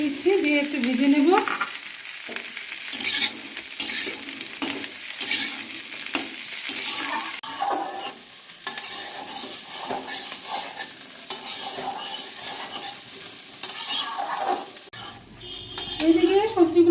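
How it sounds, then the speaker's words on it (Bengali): Green peas and beans stir-fried in a pan after cauliflower, with a spatula scraping and clinking against the metal over a steady sizzle, loud and continuous without talk. "মটরশুঁটিগুলো দিয়ে দিচ্ছি, দিয়ে একটু ভেজে নেব।"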